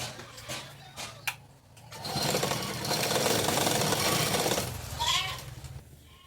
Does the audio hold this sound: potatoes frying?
no